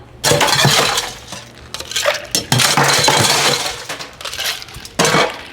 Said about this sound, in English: Next step is to add ice.